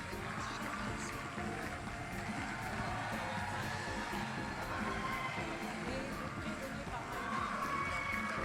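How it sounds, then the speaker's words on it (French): An audience at the 2017 Arabian Horse World Championship in Paris applauds and cheers the champion yearling fillies, a dense, steady wash of crowd clapping and voices that stays loud throughout. "vous pouvez applaudir nos championnes du monde 2017 pour les yearlings femelles"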